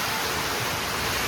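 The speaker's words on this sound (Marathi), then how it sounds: "लय पाऊस आलाय बघा." Heavy rain and wind at a poultry farm make a dense, steady broadband roar that stays constant and close.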